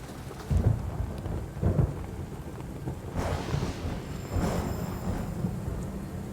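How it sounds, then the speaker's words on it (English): A thunderstorm in Metal Gear Solid 3 brings several deep rolling thunder booms over steady falling rain, with low rumbles early on and louder, crackling bursts later. "Who's afraid of a little thunder?"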